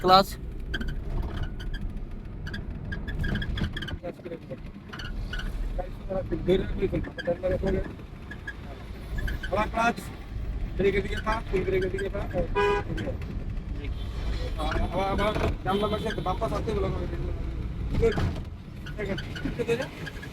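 A car driving on a highway with a learner driver at the wheel: steady road and engine rumble from inside the cabin, with people talking over it and a few short horn toots.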